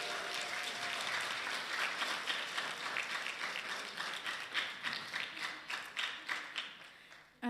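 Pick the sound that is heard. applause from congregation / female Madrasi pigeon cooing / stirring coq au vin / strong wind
applause from congregation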